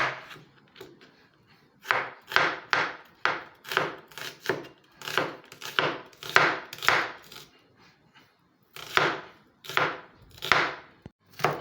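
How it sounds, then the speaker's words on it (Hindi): An onion is chopped on a board for gurde masala, a rhythmic run of close, crisp knife strikes in quick bursts separated by short pauses, with no talking. "मैं ये थोड़ी सी एक प्याज की कटिंग है वो कर लेता हूँ"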